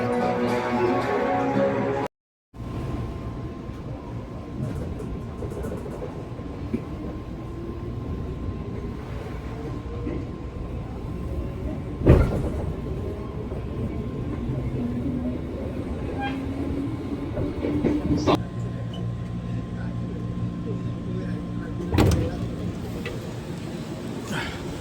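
Train idling and moving at Jakarta Kota station, a steady low rumble with a few sharp clanks and bangs, close and fairly loud, with faint voices in the background.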